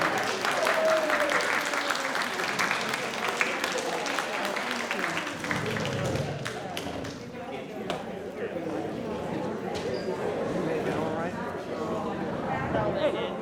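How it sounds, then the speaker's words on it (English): An outdoor July 4 gathering at Canterbury Woods gives the master of ceremonies a round of applause, lively clapping at first that gradually thins, with voices and chatter throughout. "how about one last round of applause for our master of ceremonies, Tom Hill"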